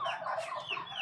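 Desi and tiger hens clucking in cages, a quick run of close, moderately loud clucks with no voices.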